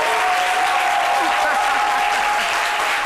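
Steady, dense applause from a crowd, loud and continuous throughout with no pauses.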